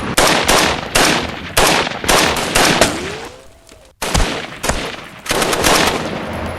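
Sustained machine gun fire in a war film, loud repeated bursts of rapid shots with brief gaps, close and dense, distinct from AK rifle fire.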